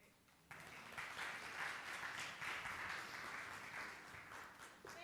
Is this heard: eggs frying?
no